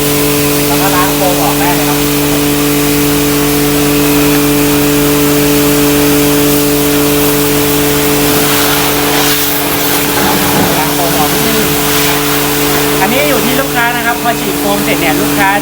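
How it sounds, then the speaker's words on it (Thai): A coin-operated car wash pressure spray gun blasts water in a continuous loud hiss over a steady machine hum, while someone talks over it throughout. "กดปุ่มฉีดน้ำเหมือนเดิมครับ น้ำก็จะออกแล้ว"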